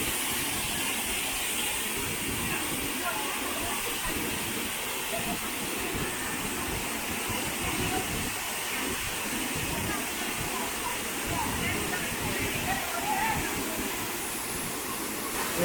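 The Sawdav waterfall in Kankavli taluka, Sindhudurg, swollen with muddy water after heavy rain, gives off a steady broadband roar that stays dense and unbroken throughout.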